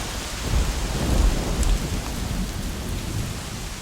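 Heavy rain pours down steadily outdoors near a rock shelter, a dense continuous hiss with low rumbling swells, no voices.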